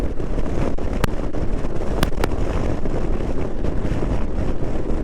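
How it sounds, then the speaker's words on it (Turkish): Strong wind rushes steadily over the microphone in a dense, continuous roar while riding a Yamaha NMax 155 scooter around Manavgat, Turkey, broken by a few sharp clicks. "Buralarda falan güzel rüzgar esiyor."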